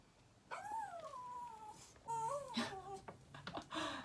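A small dog that cannot climb up onto a bed whimpers in a few thin, rising and falling whines, quiet and close in an indoor bedroom, with short pauses between cries.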